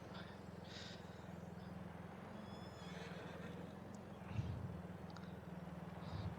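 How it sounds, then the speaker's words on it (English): A horse whinnies and snorts at Attingham Park, with faint hoof clip-clop, moderately close against steady low background rumble, a louder burst near the end. "They do still have a horse here."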